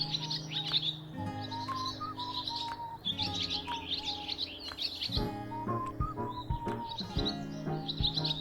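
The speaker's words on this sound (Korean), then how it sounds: "새소리 너무 좋다." Several songbirds chirp and trill on a spring day among blooming flowers, with bright repeated calls overlapping and continuing steadily from fairly close by, with no voices.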